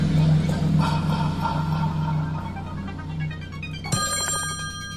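A telephone rings inside the Slayaway Camp video game, a bright electronic ringtone that cuts in abruptly near the end over steady background game music.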